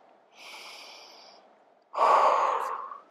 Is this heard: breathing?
yes